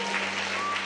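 A congregation claps during a Sunday worship service at Bethesda A.G. Church: a brief, even burst of many hands over a low steady electrical hum.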